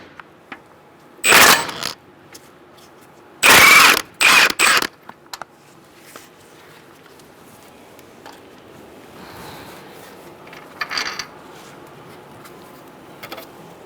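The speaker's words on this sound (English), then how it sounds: "Now we're going to take our ball joint pinch bolt out with a 14mm socket." Ratchet bursts from a 14mm socket loosening the ball joint pinch bolt on a 2014-2018 Subaru Forester front lower control arm: one short clicking run, then a longer burst with quick stop-start pulls, close and loud, quiet garage between.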